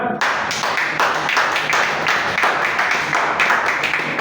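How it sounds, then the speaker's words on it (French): A church congregation at a French-language sermon claps together, a steady run of fairly even hand claps filling the room for several seconds, with no voice on top. "Acclamez pour vous-même"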